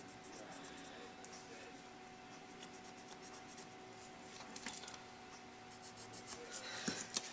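Pencil scratches faintly as it marks short lines on pattern paper, several quick strokes over a quiet background with low speech.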